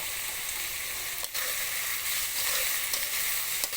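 Vegetables for restaurant-style chicken fried rice sizzle in a pan with a little salt, a continuous close hiss of frying with a few brief stirring scrapes and no voices.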